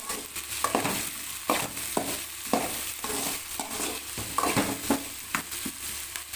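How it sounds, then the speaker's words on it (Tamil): Onions sizzle and crackle steadily in a hot pan, with repeated scraping and stirring strokes from a utensil at a close, moderate level. "வெங்காயம் ஓரளவுக்கு வதங்குது"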